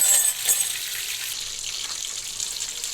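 Chicken pieces frying in hot oil over a medium flame, a steady close sizzle with a slightly louder crackle at the start, then an even hiss throughout with no talking.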